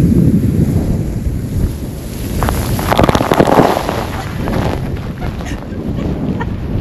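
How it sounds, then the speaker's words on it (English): An Icelandic geyser erupts in strong wind, a constant gusty roar on the microphone that swells into a louder rushing gush of water midway before settling back to the wind. "And I believe this geyser should erupt soon."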